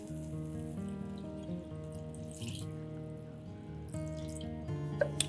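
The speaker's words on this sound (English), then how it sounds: "add in tender coconut water" Tender coconut water pours into a simmering curry with kokum and masala, making a steady watery splash and trickle that lasts several seconds, with a couple of small drips at the end, and no one speaking.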